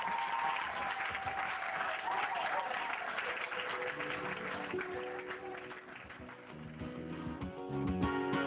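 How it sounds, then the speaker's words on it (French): A church congregation claps along in worship, the applause blending with singing voices and instruments that swell toward the end. "Applaudissez pour le Seigneur"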